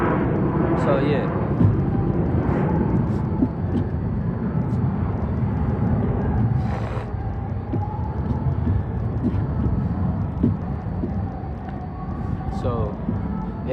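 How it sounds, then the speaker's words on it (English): A plane rumbles past overhead as a continuous broad roar, steady and fairly loud across the whole stretch, with scattered faint voices and small noises underneath. "hold on, let this plane pass, bro."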